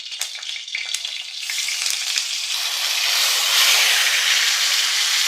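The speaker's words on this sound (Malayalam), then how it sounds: "ചട്ടി അടുപ്പ് വെച്ചിട്ടുണ്ട് അതിലേക്ക് നമ്മൾ ഇതാ ഒരു ഒന്നര സ്പൂൺ നെയ്യ് അങ്ങോട്ട് ഒഴിച്ചു വരട്ടി വെച്ചിരിക്കുന്ന ചക്കയാണ് ഇതൊന്ന് ഇട്ട് കൊടുക്കാം" Preserved jackfruit dropped into hot ghee in a pan sizzles steadily, the frying hiss swelling louder and denser over a few seconds with faint stirring clatter early on.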